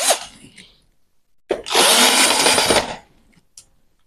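A cordless drill drives screws back into a Japanese electric rice cooker during reassembly, giving a brief burst near the start and then a loud, steady whir of about a second and a half, followed by a faint tail.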